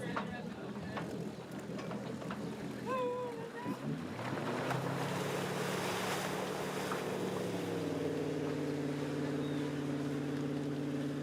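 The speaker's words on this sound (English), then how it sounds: "Certainly heard that telltale whirring sound from the back of the Nautique" Nautique tow boat pulling away with a water-skier at a water-ski championship, its engine rising into a steady whirring drone, with a commentator's voice over the start.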